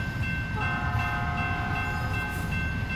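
A long train in American Truck Simulator rumbles past close by, steady and loud, with a sustained horn tone over the continuous rolling of the wagons.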